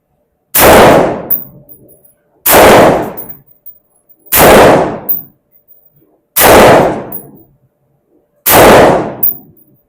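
Sarsilmaz SAR56C 5.56 rifle firing five loud, sharp single gunshots spaced about two seconds apart, each with a short ringing decay and no talking.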